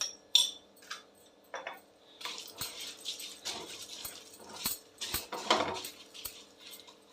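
Peppercorns and cumin seeds dry-roasting in a pan, heard as scattered metallic clinks and light scraping, quiet at first and then busier in irregular bursts, with no talking.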